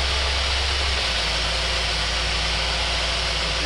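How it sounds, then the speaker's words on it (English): A single-barrel carburetor engine runs steadily on a dyno, a continuous loud drone with heavy broadband roar and a low fundamental that shifts slightly after the first second, with no voices. "now we're going to turn the dyno on and see how it does"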